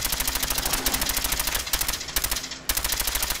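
A silenced gun fires in rapid automatic bursts in Fallout 4, steady muffled clacking shots in a fast regular rhythm, with short pauses between strings of fire.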